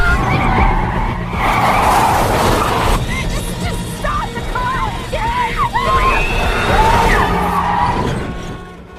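A car accelerates hard in a chase, its tires screeching and skidding loudly through the whole stretch, with broad engine roar and squealing rubber up close.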